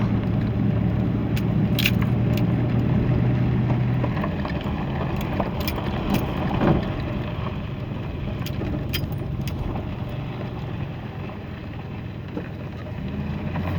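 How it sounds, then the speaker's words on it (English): A 1985 Buick Grand National drives along with a steady low engine drone and road and wind noise, while small rattles and ticks sound from inside the cabin. "this car, I mean, it's such a nice cruiser. It just accelerates nice."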